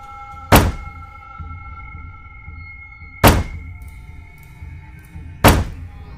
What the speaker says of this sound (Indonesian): suara ketukan itu kini pindah di pintu dapur dengan semakin keras